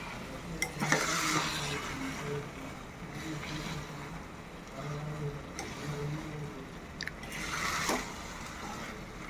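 Carrot halwa being stirred with ghee in a pan, giving a steady scraping and rustling with soft, recurring swishes throughout.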